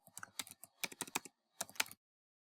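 Bursts of typing on a computer keyboard while JavaScript code is entered, quick clustered keystrokes in three short runs with brief pauses, close and clear, no voices.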